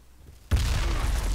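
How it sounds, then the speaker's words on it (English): A grenade goes off in the military shooter Project Reality: one sudden loud burst lands after a quiet stretch, and a dense rumbling roar holds steady at full loudness afterward. "I'm gonna toss a nade at him."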